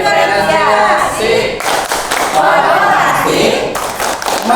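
A teachers' workshop group in Tangerang, role-playing a class, performs a rhythmic clapping routine, with dense claps and taps in a loud, close crowd alongside group chanting voices.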